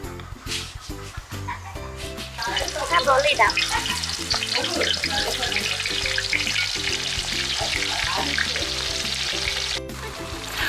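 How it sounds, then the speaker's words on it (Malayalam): Sliced onions sizzling and frying in oil in a pan for a Hyderabadi chicken dum biryani, a steady close crackle with occasional stirring, and a dog barking faintly in the background. "ഇവിടെ നമുക്ക് സവോള ഫ്രൈ ചെയ്ത് തരാൻ പോകട്ടെ"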